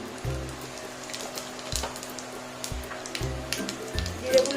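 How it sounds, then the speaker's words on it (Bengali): Cumin seeds crackle in hot oil in a pan on a low flame alongside two dried red chillies, giving a steady close sizzle dotted with small pops and spits. "জিরেগুলো ফাটছে"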